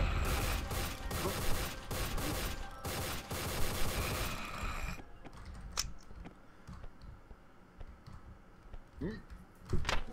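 Video game gunfire from Rework The Dead: Evil comes as dense, rapid bursts of shots for the first half, then gives way to sparser, quieter shots and thuds under a player's voice.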